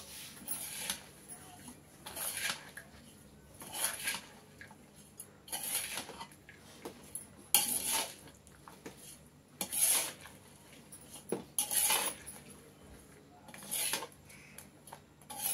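A spoon stirs a big pot of basmati lemon rice, about one kilogram, with repeated scraping, clinking strokes against the metal in uneven bursts, close and fairly quiet.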